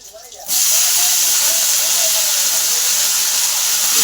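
Ghevda bean pods dropped into a hot pan with fried tomatoes, a sudden loud sizzling hiss that bursts in after a quiet half second and then stays strong and steady.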